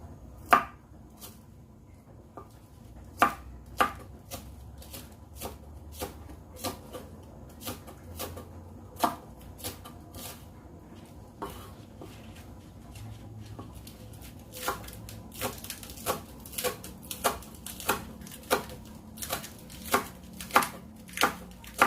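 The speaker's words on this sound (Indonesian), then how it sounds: "Kita iris dulu daun bawang," Spring onions sliced on a cutting board with a knife, a long run of crisp, close chops that start sparse and irregular and then quicken into a steady rhythm, with no talking over them.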